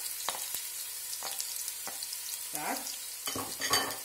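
Chopped onion, celery and carrot sizzle softly in a pan for a lasagna base, with a quiet steady fry broken by spoon scrapes and stirring clatter, and a brief spoken word.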